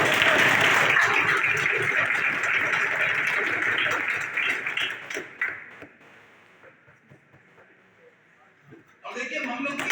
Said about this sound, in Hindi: बार ताली बजाइए जोरदार।